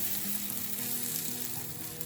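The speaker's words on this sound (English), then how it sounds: "Now let's turn the egg and cook it on the other side." Egg omelette frying in a pan over a medium-low flame, a steady close sizzle of hot oil with a faint soft crackle throughout, no voices.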